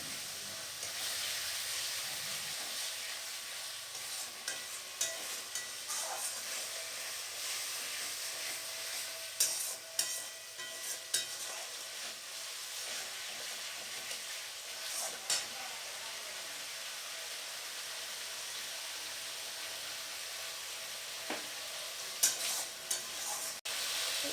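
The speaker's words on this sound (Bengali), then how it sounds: "এবারে দিয়ে দেব জল কিছুটা পরিমাণে" A steady, quiet sizzle and simmer comes from a frying pan after water is poured in to sauté a fish curry base, with occasional spoon scrapes and taps scattered across the long stretch.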